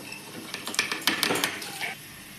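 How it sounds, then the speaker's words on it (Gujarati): A spoon scrapes and clinks against a metal pot in a quick series of stirring strokes, fairly close, with no talking, while mixing broken-wheat khichdi. "હલાઈને બધું મિક્સ કરી દઈશું"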